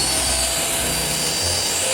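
A small handheld vacuum cleaner runs steadily and loudly throughout, a continuous broadband whir with a shifting low hum, close to the microphone and with no voices.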